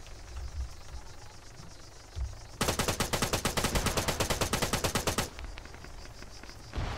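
Rapid automatic gunfire in the tactical military shooter game Arma 3, a loud sustained burst of dozens of evenly spaced shots lasting about three seconds, with quieter ambient game noise before and after.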